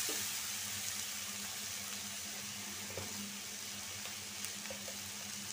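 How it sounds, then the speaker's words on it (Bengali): Potato and onion frying together in a pan with a soft, steady sizzle, faint and continuous throughout, with a few light scrapes or pops now and then. "আমি পেঁয়াজের সাথে আলুটা একটু লাল করে ভাজা নিলাম।"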